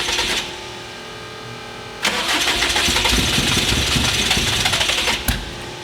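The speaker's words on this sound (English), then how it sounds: "Now crank it a little bit and then floor it." An 800HP Subaru STI engine cranks over steadily, then catches and revs hard at full throttle, a loud, sustained, close roar that ends with a sharp pop.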